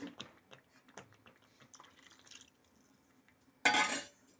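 Water is poured into a pot of tomato sherwa after the oil has separated, landing as a brief, loud splash near the end. Faint clinks and stirring come before it.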